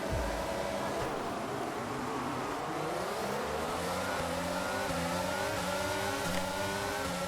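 Formula 1 cars in the F1 22 video game pulling away from the starting grid, engines rising in pitch through the gears, a loud layered roar of several cars accelerating together with no voices.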